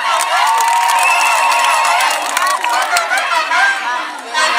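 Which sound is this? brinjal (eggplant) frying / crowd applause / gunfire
crowd applause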